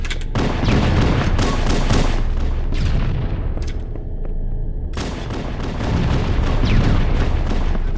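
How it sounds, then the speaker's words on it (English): Halo MCC on Xbox One: a loud, rumbling barrage of booming blasts and heavy gunfire, sustained and dense with a short lull in the middle before more blasts. "Whoops, that was a good grenade throw."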